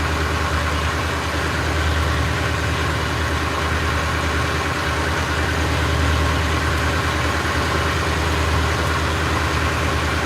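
A small boat's engine trolls at normal RPM in rough seas off Alaska, a steady loud droning hum with constant low rumble and no pauses throughout.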